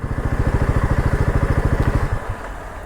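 A Royal Enfield Himalayan 450 motorcycle idles close by on a rough dirt track, its engine thumping in an even, rapid rhythm for about two seconds before the pulses fade out.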